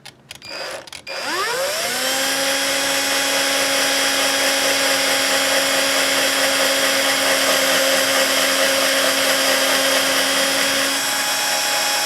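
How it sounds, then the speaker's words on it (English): A power drill whirs up after a couple of clicks, then holds a loud, steady, close whine for about ten seconds without stopping as it drills into a guitar body. "Make sure we don't drill all the way through it."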